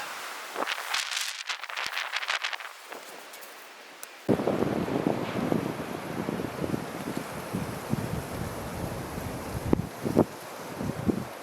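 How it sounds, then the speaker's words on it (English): Strong wind whipping around a KUIU Mountain Star two-person tent, a broad roaring rush with flapping fabric and gusty swells that rise suddenly and keep buffeting steadily, loud and close. "even though the wind is really whipping around"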